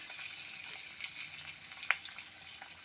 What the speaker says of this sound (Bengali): ডিমটাকে উল্টে পাল্টে হালকা করে আমি ভেজে নিয়েছি।